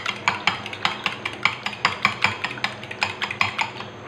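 Two eggs being beaten in a bowl with a utensil for a crunchy potato fingers batter, giving a quick, steady run of sharp clinking taps against the bowl, close and clear with no talk.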